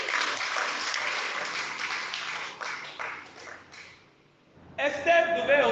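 Church congregation applauding together in a steady wash of clapping that fades out, then picks up again after a short lull, moderately loud.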